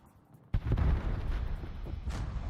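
In a naval warship game, a torpedo strikes a ship with a sudden deep, booming blast that rolls on as a sustained low rumble, and a fainter hiss swells near the end.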